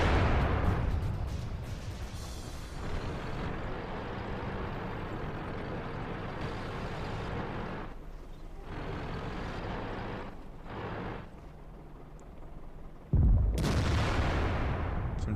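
Tank cannon fire from a KV-1S heavy tank in World of Tanks, on the Pearl River map, with a deep booming shot bursting out near the end over steady engine and battle rumble.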